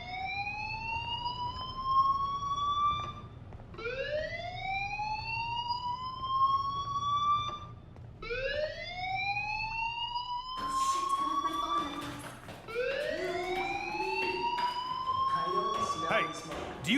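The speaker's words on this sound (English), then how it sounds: "Hey, do you hear that fire alarm?" Fire alarm sounding in the video game Life is Strange: a repeated rising electronic whoop, four sweeps in a row, steady and fairly loud, with a soft background hum and a denser layer joining midway.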